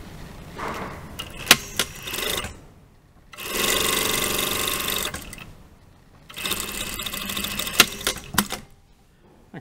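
Sewing machine stitching down the side of a single welt pocket on tailored shorts, running in two sustained bursts of rapid, even stitching separated by a pause, with small clicks and handling noises around them, close and fairly loud.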